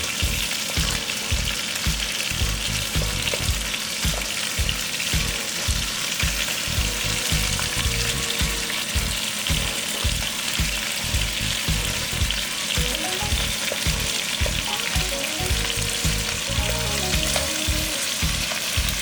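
Chicken frying in a pan for a pan barbecue while a knife pokes it, a loud, steady sizzle with a fast, regular thumping pulse throughout, no speech.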